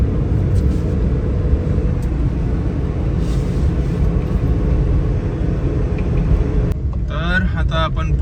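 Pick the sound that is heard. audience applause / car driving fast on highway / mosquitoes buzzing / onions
car driving fast on highway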